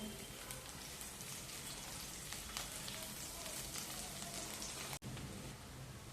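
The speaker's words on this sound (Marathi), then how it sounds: "आता आणखी थोडासा आपण कांदा टाकून घेऊया" Chopped onion sautéing in a pan for chicken kharda, a steady soft sizzle and crackle throughout, close but fairly quiet, with no talk heard.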